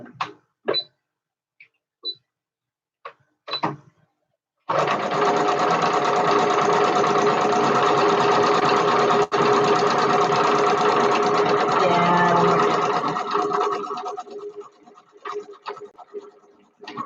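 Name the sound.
sewing machine stitching buttonholes with topstitching thread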